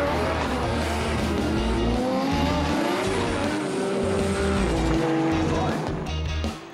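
Drift cars race through a corner with engines roaring and tires squealing continuously, loud and close, while a commentator talks over the action; the lead car is an Automotive Direct Nissan S14 at a D1NZ drifting round in Taupo.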